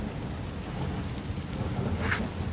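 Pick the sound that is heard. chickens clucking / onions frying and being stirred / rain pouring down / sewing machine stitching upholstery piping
rain pouring down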